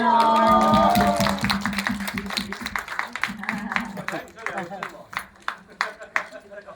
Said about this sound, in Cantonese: 侄女，掌聲俾